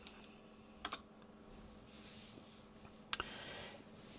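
Quiet computer keyboard typing of a short terminal command. It comes as a few light, scattered clicks with one sharper keystroke near the end, over a faint background hiss.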